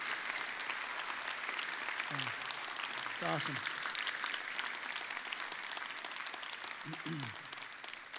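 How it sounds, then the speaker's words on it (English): Audience applause in Clinton Township, a loud, steady wash of crowd clapping lasting throughout, with a voice speaking briefly over it. "Would you give her a huge round of applause?"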